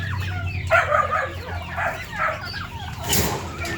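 Backyard pet chickens are let out to feed, clucking and murmuring close by in a steady run of soft calls with one louder squawk near the end, over faint background noise.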